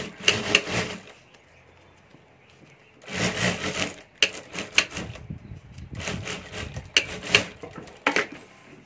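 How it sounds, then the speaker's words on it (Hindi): A sewing machine stitching the side seams of a fabric lunch box, running in several quick rattling bursts separated by short pauses, close and clear with no talking. "तो यहाँ मैं सिलाई करके जोड़ देता हूँ।"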